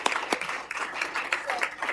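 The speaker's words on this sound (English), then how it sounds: "So let's give them a round of applause" Audience applause at a city council meeting, a steady patter of many hands clapping with a few sharper nearby claps, moderately loud, with faint voices mixed underneath.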